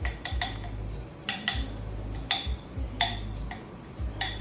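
Ingredients being whisked or stirred together in a bowl in a home kitchen, with irregular clinking taps of a utensil against the bowl over a steady low rumble.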